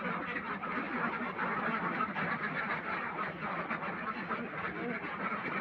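A flock of two to four hundred farm ducks quacks together in a continuous dense chorus, close and fairly loud, the overlapping calls blending into a steady babble with no gaps.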